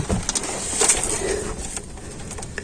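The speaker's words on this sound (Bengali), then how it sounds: "এখানে অনেক পায়রা থাকে, এই দেখতে পাচ্ছেন দুইটা আছে" Pigeons in a dovecote coo softly and briefly at close range, with low rustling and handling noise around them.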